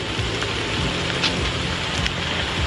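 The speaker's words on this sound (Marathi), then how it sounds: "बघा पाऊस पडतोय मस्त कालोख झालाय" Rain pours steadily outdoors under a dark sky during the first rains, a continuous broadband hiss of drops close by with faint low rumbling beneath and no voices.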